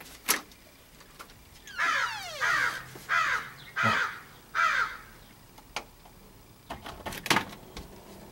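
Several crows caw in short harsh bursts, about four spaced calls in a row, fairly close, with a few sharp knocks before and after and no talking.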